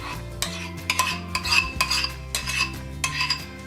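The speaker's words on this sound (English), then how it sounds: "So now I'm going to take my yogurt topping and I'm gonna spread it on the cooled crust." A utensil spreads yogurt topping over a cooled granola crust, giving close, irregular scraping and soft tapping against a dish, with light clinks in a quick, uneven rhythm.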